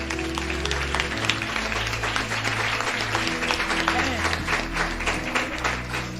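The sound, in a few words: audience applause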